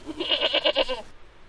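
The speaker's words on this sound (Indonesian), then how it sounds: "Oh, suara kambing kayak yang disembelih kemarin." A goat bleats once in an educational video game, a quavering, pulsing call of about a second, close and clear with nothing else over it.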